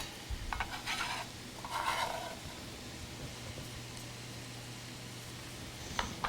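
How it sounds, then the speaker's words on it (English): Vegetable lasagna ingredients being stirred in a pan, a soft, quiet scraping and faint sizzle that goes on steadily, with a few brighter clinks near the start and end and no talking. "And stir that up a little bit."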